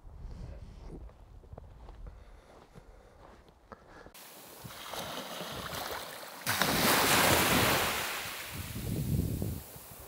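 Ambient sound on the coast at Mornington near a shipwreck: surf washing and wind buffeting the microphone, rising from a quieter start into louder, roaring waves with no talk.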